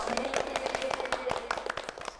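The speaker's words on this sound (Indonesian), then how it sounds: "Beri tepuk tangan dong." Students in a school group guidance session clap their hands, a dense run of sharp, uneven claps close by, with voices underneath.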